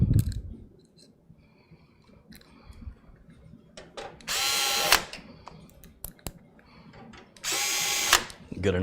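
A power driver runs screws into a computer power supply during a high-end PC build, with two loud whirring bursts of about a second each between quiet clicks and handling noises.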